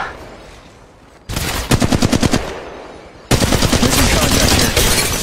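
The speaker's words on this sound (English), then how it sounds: "Shots fired and they're hitting me" Automatic weapons fire in Apex Legends Mobile: a sudden loud burst of rapid shots, a short pause, then a longer sustained stream of close, punchy machine-gun fire.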